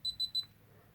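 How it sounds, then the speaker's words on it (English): A RunCam 2 action camera powers on with three short, clean high-pitched electronic beeps in quick even succession, faint and close, followed by silence. "You'll just hear a beep."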